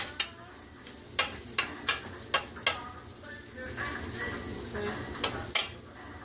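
Corned beef burgers fry on a griddle with a continuous sizzle, broken by a series of sharp metallic scrapes and taps from a spatula, some close together and a last pair near the end, with faint voice in the background.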